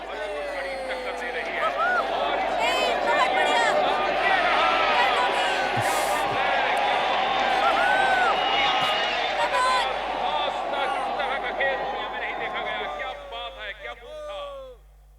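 A dense crowd at a basketball game keeps up a loud, steady murmur of chatter and shouts, with a brief thump partway through, thinning out near the end as voices trail off.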